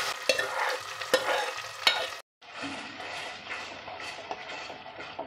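Eggplant fritters (vankaya bajji) frying in hot oil, with a steady crackling sizzle and occasional stirring clatter, broken by a brief silent gap before the frying resumes.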